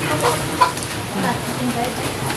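Soft, scattered chicken clucks outdoors after rain, low and fairly close, with faint voices and background noise underneath.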